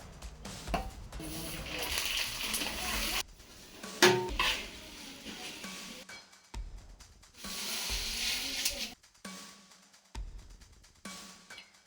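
Peanuts and roasted chickpeas fry in hot oil in a pan for Diwali chivda, bursts of close sizzling alternating with brief pauses, metal utensil clinks and stirring scrapes.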